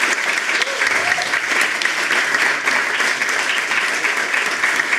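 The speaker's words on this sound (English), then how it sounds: "Please give a big round of applause to these guys." Audience applause at a Magic: the Gathering panel during Lucca Comics & Games, a steady dense clapping from a large crowd that holds at even loudness for the whole stretch without letting up.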